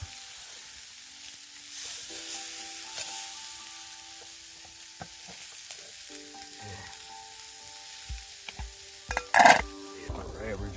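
Steak sizzling in a pan on a camp stove at a Crown Land campsite near Greater Sudbury, a soft, steady fry with faint clinks and a sharper scrape near the end, no talking over it.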